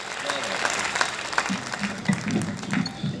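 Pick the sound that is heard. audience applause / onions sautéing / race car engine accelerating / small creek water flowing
audience applause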